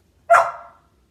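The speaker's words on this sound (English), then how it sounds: "No, you're not barking at me." A single sharp, close bark from a dog indoors, loud and brief, fading quickly into silence.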